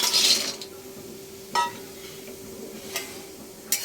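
Lentil dumplings (bori) frying in hot oil in a kadai give a steady soft sizzle, with a few sharp clinks of a utensil against the pan standing out at intervals.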